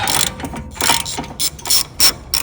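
Ratchet wrench with a swivel attachment loosening strut bolts on a 2021 BMW 540i: a rapid series of close, crisp clicking ratchet strokes, several distinct bursts in quick rhythm with no talking.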